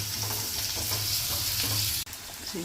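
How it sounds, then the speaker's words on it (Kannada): Onions frying in a pan for a ridge gourd and egg dish, a dense close sizzle with stirring scrapes running steadily, broken by one brief dropout near the end. "ಎಲ್ಲಿ ತನಕ ಫ್ರೈ ಮಾಡಬೇಕು ಮಮ್ಮಿ"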